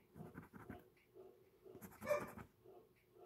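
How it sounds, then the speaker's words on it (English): A dog pants quickly and faintly at home, with a few soft breathy puffs and a muffled yip-like sound in the middle, heard close but quiet. "My dog just likes to bark, doesn't he?"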